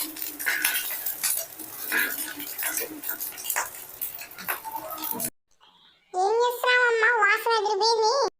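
Two spoons clink and scrape against a pan while turning frying eggs, a busy run of close metallic taps and rattles, then a brief pause before a voice speaks.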